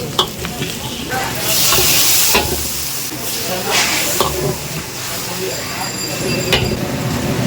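Chili chicken stir-fried in a wok at a busy street food stall, loud hissing sizzle with metal spatula scrapes and clinks, voices and street bustle audible underneath.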